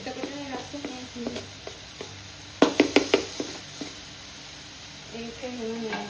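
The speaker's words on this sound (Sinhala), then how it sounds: "මේ කොත්තු රොටි ටික දැම්මම තා ටිකක් ෆ්‍රයි කරමු." Kottu roti frying and being stirred in a pan, a steady sizzle under a soft voice, with a quick run of loud metallic clacks and scrapes from a utensil striking the pan midway.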